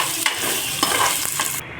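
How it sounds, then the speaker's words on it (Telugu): Eggs seasoned with turmeric and salt fry in a hot pan, giving a close, loud sizzle with quick scraping stirs of a spatula and no talking. "మనం ఎగ్స్ అయితే ఇట్లా ఫ్రై చేసుకొని పెట్టుకోవాలి"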